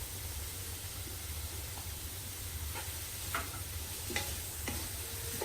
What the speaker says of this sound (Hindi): तो हम फिर से 1-2 मिनट के लिए भून लेंगे।